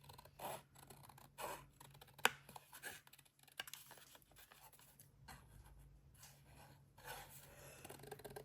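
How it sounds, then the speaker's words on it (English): Paper being fussy-cut with scissors for a junk journal craft, with soft, quiet snips and rasping rubs of paper close by, alone with no talk. "let's fussy cut out"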